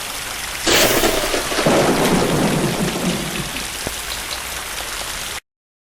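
A thunder and rain sound effect opens with a sudden loud crack of thunder. Heavy rain then hisses steadily and fades slightly over several seconds, with no voices.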